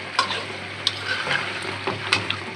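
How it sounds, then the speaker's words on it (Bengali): Pangas fish sizzles quietly as it is stir-fried for bhuna in a pan, a steady soft crackle broken by a few sharp clicks from stirring against the pan. "এই যে মাছটি আমরা সুন্দর করে কষাই দিলাম"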